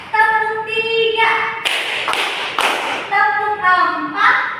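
A classroom group claps in unison three times, sharp, loud bursts in a quick run between stretches of a teacher's voice.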